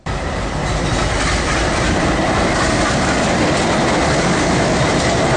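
A train rumbles loudly past a closed level-crossing gate at Avaneeswaram on the Pathanapuram–Kunnicode road, a continuous close roar with clattering wheels throughout.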